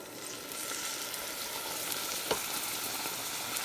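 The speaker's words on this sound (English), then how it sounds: "Stir it in." Thick caramel bubbles and sizzles softly in a pot on medium heat while milk is stirred in, giving a steady faint hiss with light scraping and one brief clink near the end.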